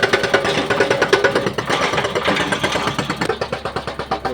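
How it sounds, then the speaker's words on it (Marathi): The large diesel engine of a big digging machine excavating a well runs close by with a steady, pulsing chug, its throb rising and falling slightly but never stopping. "मोठी मशीन लावली."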